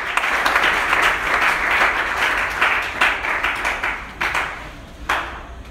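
A church congregation applauding, a dense sustained clapping from many hands that thins into scattered claps near the end, loud and fairly close.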